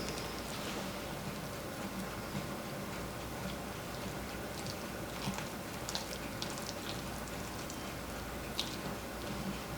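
Coleslaw being stirred with spoonfuls of mayonnaise, a steady close-up run of soft wet squishing and light ticking from the spoon against the bowl, continuous for the whole stretch with no talking.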